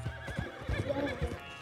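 A horse in the Red Dead Redemption 2 video game whinnies in a quick, wavering burst over steady game background sound, with hoofbeat-like clip-clop thuds mixed in.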